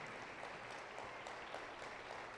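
Congregation of a Pentecostal church in Cajamarca claps, a faint, even patter of many hands with no pauses and no voices standing out.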